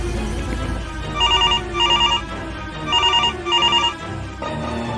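A phone ringtone rings for an incoming call in a Free Fire game scene, with four electronic trill bursts in two pairs, loud and clear over a steady background music bed.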